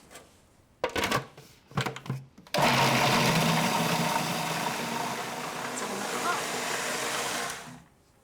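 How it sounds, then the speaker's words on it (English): A few handling knocks are followed by a blender blitzing lots of onions and vegetables at full speed for about five seconds, a loud steady whir that then cuts off. "Time to blitz."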